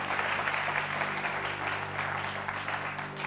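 Steady applause from an audience on a French TV entertainment show, a dense continuous patter of clapping held at even loudness throughout, with a low background hum beneath it.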